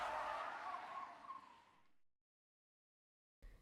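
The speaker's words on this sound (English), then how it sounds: "The taxi lurched to a sudden stop as the driver slammed on the brakes." Taxi brakes skid and tires squeal as the cab lurches to a sudden stop in the game 428 Shibuya Scramble, a loud sustained screech that fades out into silence before a short thump.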